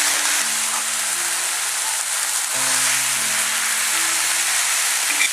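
Murigakka thoran, a drumstick stir fry, sizzles steadily in a pan as its water cooks off, a constant hissing crackle with a faint low hum underneath and no talking.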